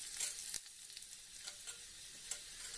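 Turmeric stirred into a sizzling tempering of curry leaves, garlic, cumin, mustard seeds and dried chillies in oil, giving a soft, continuous hiss broken by a few brief stirring scrapes.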